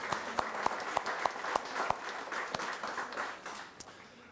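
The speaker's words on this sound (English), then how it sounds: "a big round of applause to Heather and the team for putting this all together tonight" A round of applause at the Medicine Hat Health Foundation gala, a crowd clapping with a run of crisp, rhythmic claps close by early on, then thinning and fading toward the end, with no speech over it.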